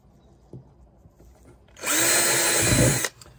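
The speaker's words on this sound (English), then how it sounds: "Then all you gotta do is drill some holes." A power drill bores holes for a DIY tailgate tool organizer, whirring loudly for about a second after faint handling taps.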